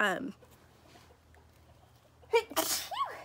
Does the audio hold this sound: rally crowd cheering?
no